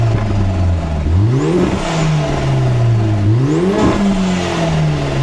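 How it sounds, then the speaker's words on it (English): A Lotus Emira sports car engine revs hard twice, each burst climbing in pitch then dropping back to a steady idle, loud and close. "So I'm gonna give it a couple revs inside."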